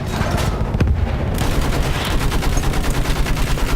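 Dense, sustained machine gun fire in the World War I video game Battlefield 1, a loud continuous rattle of rapid shots with distant booms mixed in, with no break throughout.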